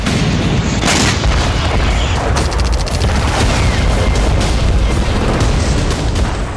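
Tank and artillery fire in Gaza during the Israel–Palestine war: dense, continuous rumbling booms and crackling bursts, loud and heavy, with no pauses between blasts.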